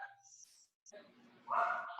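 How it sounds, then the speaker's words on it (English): A dog barks in a home during a lecture, a couple of short muffled yips and barks heard from another room at moderate distance, brief and mixed with background voices. "There goes my dog."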